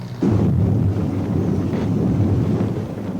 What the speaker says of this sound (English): the strong wind blowing snow